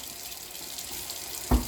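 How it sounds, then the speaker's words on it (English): A razor blade is rinsed on both sides under a running bathroom tap after a shave, giving a steady close stream of faucet water with a brief heavier splash or knock near the end. "I'm going to just run the blade, both sides, under the water."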